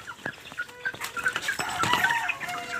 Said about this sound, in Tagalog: Manok natin nasa galaan na.